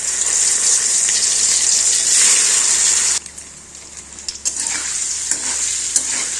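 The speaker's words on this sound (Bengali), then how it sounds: "পনিরগুলো একে একে ছেড়ে দেবো।" Paneer pieces hit hot salted white oil with a loud, bright sizzle that roars for a few seconds, then drops sharply to a quieter crackle with scattered spits and pops, close by and without speech.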